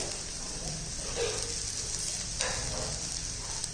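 Grated coconut and onion fry in a pan, giving a faint, steady sizzle with a couple of soft stirring scrapes.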